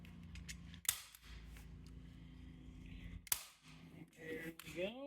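Scissors cut boat trailer runner carpet in two crisp, loud snips a few seconds apart over quiet handling noise, with a brief bit of voice near the end.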